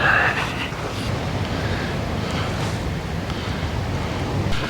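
Surf rolling onto a wide open beach in Taitung, Taiwan, a steady loud wash of waves with wind buffeting the microphone, no voices.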